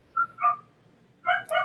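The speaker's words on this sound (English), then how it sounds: "excuse my dogs." Dogs bark and whimper nearby, a couple of short yelps followed after a pause by a louder double burst of barking, with no talk over them.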